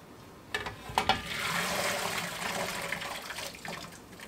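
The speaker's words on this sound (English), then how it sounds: "Just going to pour it in that bowl for the colander." Hot stew meat cut from a chuck roast, along with its cooking liquid, is poured into a colander set over a bowl. A few splashy thumps lead into a steady, close gush of pouring liquid lasting several seconds.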